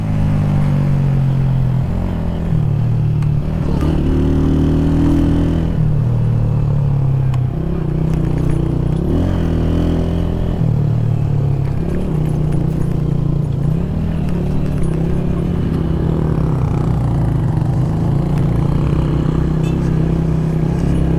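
Honda CG 125 SE motorcycle engine labouring up a steep mountain road in the Murree hills, a steady loud single-cylinder drone with shifting pitch, close and continuous, with road clatter and no talk.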